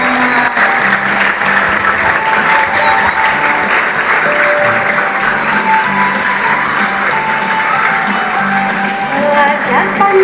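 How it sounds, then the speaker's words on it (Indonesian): Steady, dense applause fills a school opening event for an anti-bullying student project theme, a loud crowd of clapping hands running unbroken throughout, with faint tonal sounds in the background. "Oke, tepuk tangan."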